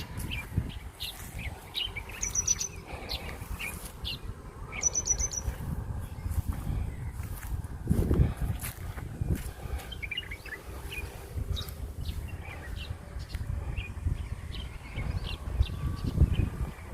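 Birds chirping in open fields beside a canal, with short bright tweets and trills scattered over several seconds, some nearer and some farther, over a low rumble of outdoor ambience and faint insects.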